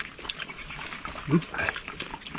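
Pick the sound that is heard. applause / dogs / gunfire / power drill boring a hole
dogs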